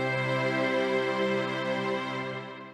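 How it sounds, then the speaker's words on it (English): A chord in an open drop 2 and 4 voicing, arranged for strings, rings out as one sustained, rich tone for almost three seconds and then begins to fade, with nothing else heard. "Now we have this beautiful spread voicing or open voicing that sounds like this."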